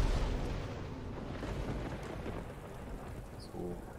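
Rain and thunder spell cast in the game Divinity Original Sin 2: a steady hiss of heavy rain with low rumbling thunder throughout, swelling slightly near the end.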